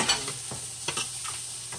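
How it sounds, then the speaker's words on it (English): Peppers added to an onion mixture sizzle steadily in a pan on a big stovetop burner set to high, with a few scraping stirs at intervals, close and continuous. "We're just adding the peppers in with the mixture."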